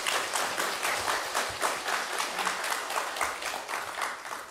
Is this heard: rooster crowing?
no